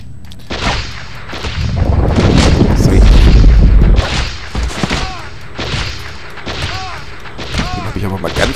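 Gunfire in the game Fallout: Brotherhood of Steel, a run of loud booming shots and blasts, some overlapping and rumbling, followed by scattered sharper bursts with ricochet-like whines, dense and close throughout.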